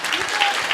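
An audience claps at a talk in one brief, steady burst of applause that fills the moment with a crowd's dense patter.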